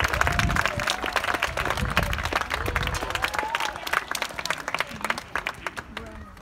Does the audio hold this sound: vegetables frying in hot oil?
no